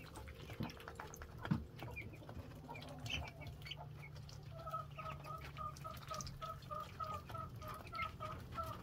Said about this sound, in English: You can hear the broody hens.